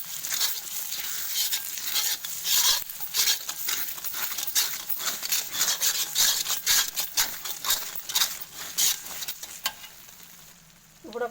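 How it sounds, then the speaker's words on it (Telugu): Egg masala noodles stirred and fried in a pan, a busy sizzle broken by rapid scraping and clicking of the spoon against metal, fairly quiet and close. "మంచి కలుపుకోవాలి,"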